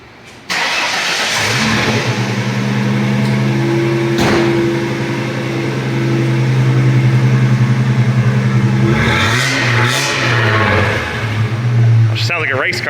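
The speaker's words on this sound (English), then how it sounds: "Sounds like a race car now." A car engine with a deleted OBD2 port idles loud and steady with a deep, racy rumble, blipping briefly near the end; voices talk over it in places.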